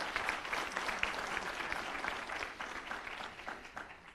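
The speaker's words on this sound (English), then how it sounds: "A big round of applause to our panel." A conference audience applauds a panel at the close of a session, sustained dense clapping throughout, fairly even and moderately loud with no talk over it.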